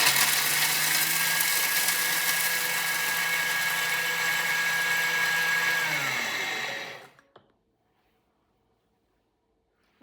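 A Thermomix TM7 mills pistachios at speed 10, a loud, steady high-pitched whirring roar that holds for about six seconds, then winds down abruptly into silence, with a faint click at the end.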